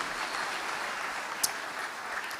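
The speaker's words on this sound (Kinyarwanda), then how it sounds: "Dukomere Imana amashyi yamuhamagaye." Church congregation applauding steadily as a continuous wash of clapping, with one brief sharper sound partway through.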